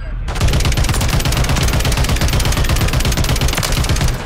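Rapid automatic gunfire in a Resurgence battle royale match, loud and close, a continuous stream of shots after a short quiet start with no pauses.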